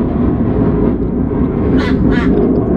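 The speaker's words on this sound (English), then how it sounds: "And now the ducks want to start screaming." Ducks quack twice in quick succession, muffled and somewhat distant, over a loud constant low rumble of background noise.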